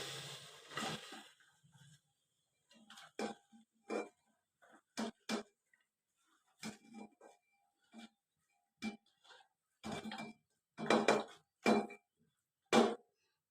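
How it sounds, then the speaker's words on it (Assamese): Chopped taro pieces going into a pressure cooker, a series of scattered clinks and knocks of metal and pieces dropping, irregular and close, with no talk. "এতিয়া মই এইখিনি কুকাৰত বহাই দিছোঁ।"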